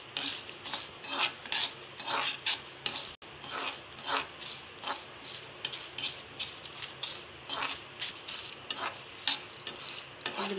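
A spoon scrapes repeatedly around a pan in steady rhythmic strokes while whole garam masala spices dry-roast with a soft sizzle underneath.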